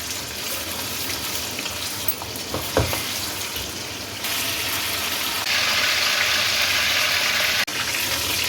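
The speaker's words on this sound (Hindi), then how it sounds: "अब चिकन को इसके अंदर फ्राई कर लें" Chicken pieces fry in plenty of hot oil in a karahi, giving a continuous crackling sizzle that grows louder and denser partway through, with a few faint clinks.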